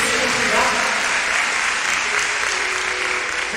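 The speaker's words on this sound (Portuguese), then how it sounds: "Vamos aplaudir Deus" A church congregation applauding, a dense, steady wash of clapping filling the room at moderate loudness with voices faintly mixed in.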